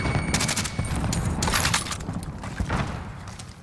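Grenade explosion in a multiplayer shooter video game, a loud dense burst of booming blasts and crackling gunfire-like reports filling the whole clip with no talk.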